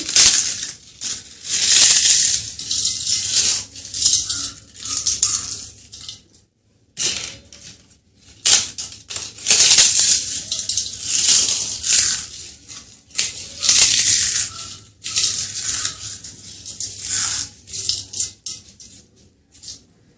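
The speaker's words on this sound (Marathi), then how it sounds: "हे भाजून घेतलेले पापड यामध्ये चुरा करून घेऊ" Roasted papad is crushed by hand into a bowl, giving bursts of crisp crackling and crunching that pause and resume in short rounds.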